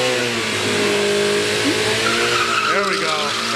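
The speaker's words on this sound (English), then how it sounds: "Loves that burnout." Loud, steady engine roar from a 500 hp Miata doing a burnout at a drag strip, with tire squeal rising briefly over the top and voices talking underneath.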